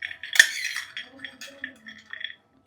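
Peanuts dropped by the spoonful into a frying pan, with sharp metallic clinks and scrapes of a spoon against the pan, close and clear, set apart by short gaps and a faint voice in between.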